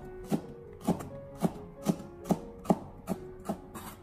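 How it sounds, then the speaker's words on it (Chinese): A knife chops small red chili peppers into short pieces on a cutting board, a close, even series of about nine crisp taps spaced roughly half a second apart, with no talk. "清洗干净以后把它改刀切成小段"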